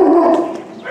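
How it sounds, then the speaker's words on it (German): Aggressive dogs bark loudly and close by in a brief, harsh burst, heard alone without talking. "die Hunde sind hier echt. Echt aggressiv, scheint mir."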